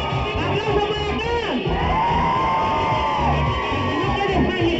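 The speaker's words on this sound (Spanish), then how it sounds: "¡Aplauso para acá!" A crowd at a wedding party cheers and whoops loudly. Shouted voices and shrill, wavering calls rise over the steady crowd noise, and a host's voice is heard amid the din.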